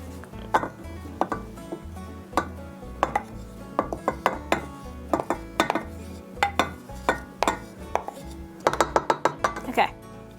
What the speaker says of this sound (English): And go ahead and mix that in until you get a nice, kind of stiff, tacky, but nicely formed dough.